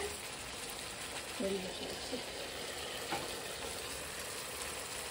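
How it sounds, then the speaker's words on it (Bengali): Spiced masala frying in oil for a fish curry gets stirred, with a steady close sizzle and occasional clicks of the spoon against the pan; a voice speaks faintly underneath. "লাড়া দেওয়ার মধ্যে এখন তো মশলা বুনা হইয়া তেল বেশি উঠছে।"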